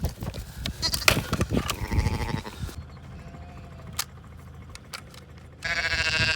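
Sheep and lambs bleat on a farm during lambing season, several loud, close calls over the first few seconds, then a quieter stretch with a single bleat before a burst of brighter noise near the end.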